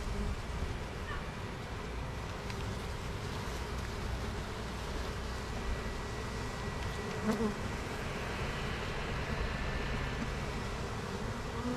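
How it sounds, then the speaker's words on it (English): Steady, dense buzzing of many honey bees, continuous and close, with no voices. "some bees with pollen."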